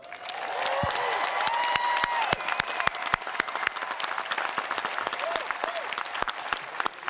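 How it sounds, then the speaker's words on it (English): A graduation ceremony crowd breaks into applause, with many sharp, distinct claps scattered across the stretch, mixed with brief cheering voices early on. "Now another round of applause for Ms. Linda DeAmpert."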